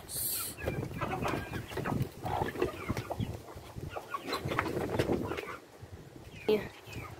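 Backyard chickens cluck and murmur nearby in a steady scattered chatter, with people talking quietly over the birds.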